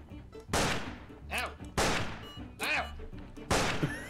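Gunshots ring out in a cowboy-era video game: four sharp, loud blasts spaced about a second apart, each trailing into a short ricochet-like ring, with no talking over them.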